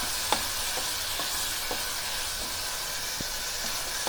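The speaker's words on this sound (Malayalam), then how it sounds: "അതുവരെ നമ്മൾ ഇതുപോലെ ഒന്ന് ഇളക്കി കൊടുക്കണം" Paneer frying in masala gets stirred in a pan, with a steady sizzle running throughout and a few soft scrapes of the spoon at irregular intervals. No voices.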